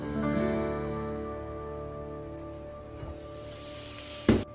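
Apple pie in a covered frying pan over low heat gives a soft, steady sizzle, close and quiet, ending with a brief clatter.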